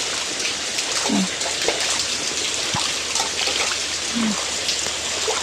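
Heavy rain pours down outdoors with rainwater running and trickling, a dense, steady hiss that fills the whole stretch, with faint voices now and then underneath.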